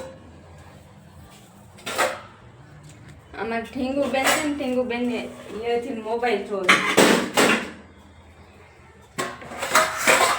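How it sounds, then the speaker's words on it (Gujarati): Dishes and steel utensils clatter and clink as they are set in place in a home kitchen, with sharp bursts near the start, middle and end, while someone talks casually throughout. "વાસણ ગોઠવવાના બાકી છે,"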